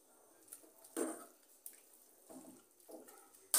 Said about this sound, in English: Let me add a little bit of water.